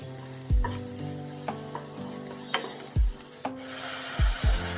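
Onions fry in a pan with salt, chili powder and sugar, giving a steady close sizzle broken by repeated scraping strokes of a spatula stirring against the pan.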